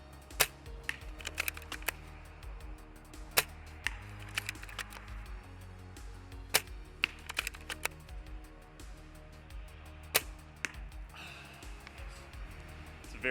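An Amoeba Striker airsoft sniper rifle bolt cycled repeatedly, giving sharp close mechanical clacks and clicks at irregular intervals over quieter handling noise.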